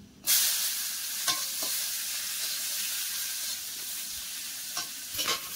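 Chopped onions hit hot oil in a wok with a sudden loud sizzle that settles into a steady frying hiss, punctuated by a few sharp taps and scrapes of stirring.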